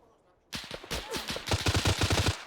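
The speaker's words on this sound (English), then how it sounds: "Who the fuck is shooting me?" Gunfire in the military shooter Arma 3: after a short quiet, a close volley of sharp shots, then a rapid burst of evenly spaced automatic fire, loud and punchy.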